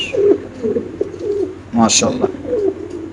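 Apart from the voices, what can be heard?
pigeons cooing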